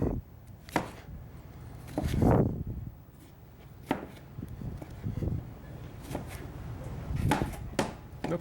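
Knife chopping lemons and limes into wedges for cooking on a cutting board, giving several sharp, close taps spread irregularly, with a denser cluster of cuts partway through and quiet pauses between.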